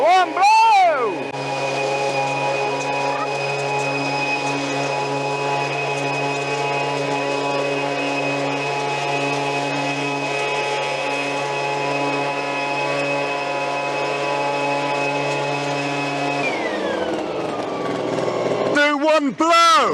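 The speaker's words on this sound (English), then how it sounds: "Let's test these blowers to see if they are up to the task." Cordless leaf blowers (Stihl, EGO, Greenworks) run at full power for about sixteen seconds, a steady loud whine with a high tone, blowing gravel off a driveway, then spin down; voices are heard at the start and end.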